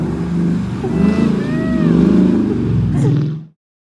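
A 2023 Kawasaki KX250X dirt bike engine revs loudly and close, its note rising and falling over several seconds before cutting off abruptly.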